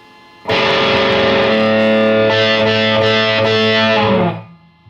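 A loud, distorted electric guitar rings out a sustained riff, with hammer-ons and slides shifting the notes before the sound cuts off.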